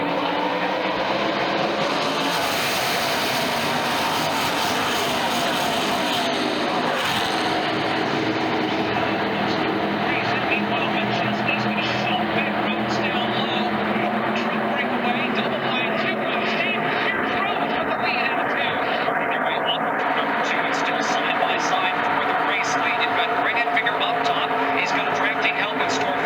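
NASCAR race trucks roaring around Atlanta Motor Speedway during the Fr8Auctions 208, a sustained loud engine drone with a passing pack swelling through, under continuous commentary.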